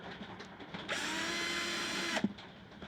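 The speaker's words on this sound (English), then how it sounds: "the foam padding under the vinyl tended to gum up the drill bit, so I had to keep clearing it after each one" A power drill bores through a vinyl and foam door panel in a 25-year-old van, one loud, steady whirring burst of just over a second between quieter moments.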